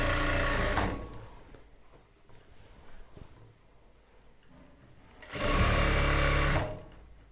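An electric sewing machine stitches the hem of a chudidar top, running in two loud steady bursts of rapid whirring with a quieter pause between them.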